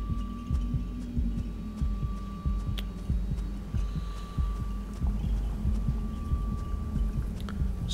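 A continuous danger heartbeat from the game Tulpa thumps on in a steady, even rhythm beneath a low hum, with a few faint clicks scattered above.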